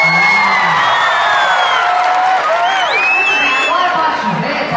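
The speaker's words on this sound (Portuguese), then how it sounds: "Uma salva de palmas." Concert crowd at a rain-delayed outdoor music show cheering, whooping and applauding together, a loud dense wash of voices and claps that holds steady throughout with a few shouts rising above it.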